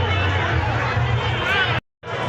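Dense crowd chatter fills the Agri Koli festival grounds in Dombivli, a steady murmur of many voices that cuts out briefly near the end before resuming.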